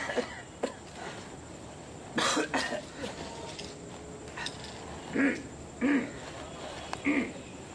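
Short, raspy coughs come in scattered bursts, one double cough early and then three separate hacks near the end, against a quiet background.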